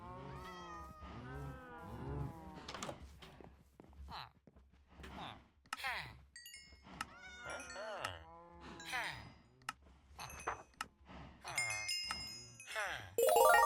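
A cat in a video game meows repeatedly in short, clear calls scattered across the clip, mixed with someone talking and occasional light game chimes.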